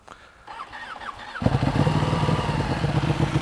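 A Ducati 1299 Panigale S sport motorcycle engine cranks and catches, then settles into a loud, rough, rapid idle close by.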